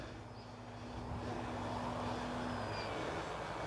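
A glider tow plane drones overhead, a steady propeller-engine hum that swells slightly and holds, moderately distant with wind noise around it.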